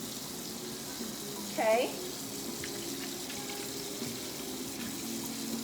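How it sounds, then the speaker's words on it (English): Cold water running from a kitchen tap into a bowl to soak food, a steady faint hiss of flow throughout, with a short spoken word partway through. "I'm gonna add some cold water."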